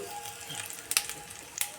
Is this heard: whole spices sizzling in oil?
yes